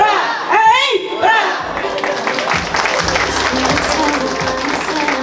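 A crowd at a 50th birthday party claps and cheers for the guest of honor's parents, starting under an excited shouting voice and then settling into a continuous, close, lively mix of applause and chatter.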